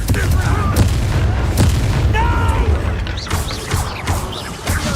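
The Confringo blasting spell explodes in the Hogwarts Legacy video game amid rumbling booms and crashes, with characters speaking over the dense, loud battle noise.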